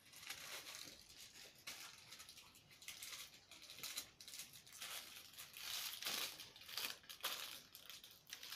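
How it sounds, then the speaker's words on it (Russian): A parcel being unwrapped close up, with quiet crinkling and tearing of packaging in irregular bursts, soft and intimate with no voices. "Давайте же откроем это что-то, какую-то вещь."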